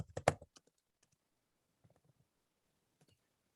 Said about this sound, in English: I'm typing them in.